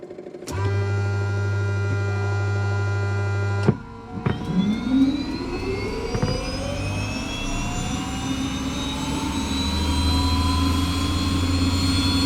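A TBM 850 turboprop engine starts up: a steady tonal whine cuts off, then the turbine spools up with rising whistling tones into a loud, sustained roar close by, with no talking.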